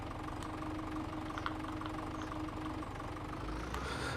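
A tractor engine runs at a steady idle in a farming video game, a continuous low rumble with faint knocking, loud and unbroken with no talking.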